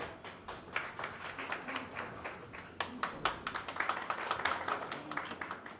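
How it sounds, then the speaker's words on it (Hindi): An audience claps steadily at a stage event, many hands beating in a brisk, uneven rhythm that swells partway through and carries on for several seconds. "एक बार जोरदार तालियां होनी चाहिए यहाँ पे।"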